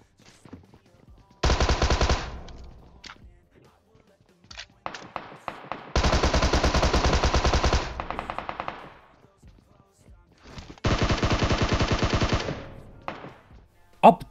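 Bursts of rapid automatic gunfire in PUBG Mobile, three long sustained volleys separated by scattered single shots and quieter gaps, loud and close.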